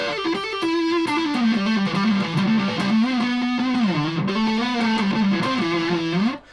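A 1981 Japanese-made Ibanez Blazer BL450 electric guitar plays through a distortion pedal, a sustained, saturated melodic line that bends and wavers steadily for about six seconds before cutting off abruptly.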